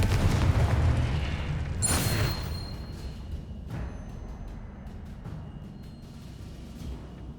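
A Confringo blasting spell explodes in the Hogwarts Legacy video game, a loud booming burst that rolls into a rumbling decay, with a brief bright crackle near the peak and no talking.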